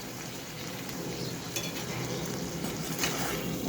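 Potatoes and chopped tomato sauté in a pan with fish-curry spices, giving a steady, soft frying hiss with a few faint scrapes of stirring.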